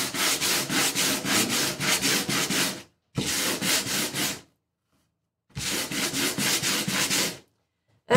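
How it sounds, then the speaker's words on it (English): Rhythmic back-and-forth rasping of sandpaper on a wooden picture frame in three bursts of quick strokes, separated by brief silent pauses, close and fairly loud. "Okay, now we're gonna do the sanding on the frame."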